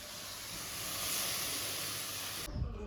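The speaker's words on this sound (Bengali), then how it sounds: "দিয়ে এখন ঢাকনা দিয়ে ঢেকে ঢেকে রান্না করবো।" Steady broadband hiss of food cooking under a lid in a covered pan, continuous and fairly loud, cutting off sharply near the end to a low thud and quieter background.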